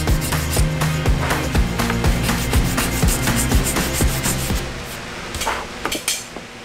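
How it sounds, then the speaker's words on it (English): Hand sanding along the spine of a trench knife blade to remove grinder marks, a loud close rhythmic rasping with repeated back-and-forth strokes that slow and break up toward the end. "Go one direction, work out all the marks from the grinder going that way."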